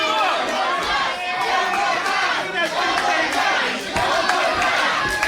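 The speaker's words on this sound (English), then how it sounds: "This crowd calling for one more time" A wrestling crowd at a Matt Tremont vs Rickey Shane Page hardcore match chants and roars for one more move, a dense, steady wall of voices filling the arena throughout.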